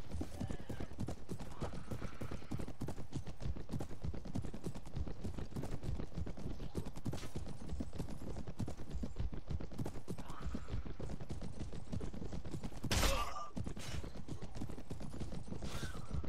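Rapid hoof clopping from goat mounts in the Mount and Blade video game, a dense, continuous patter of many hooves over battle ambience, with a brief sharp burst partway through.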